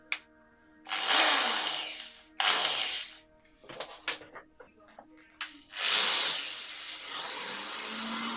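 A handheld power drill spinning to burnish the edge of leather for a card wallet, several loud bursts of whirring with short stops between them and clicking handling noises in the gaps.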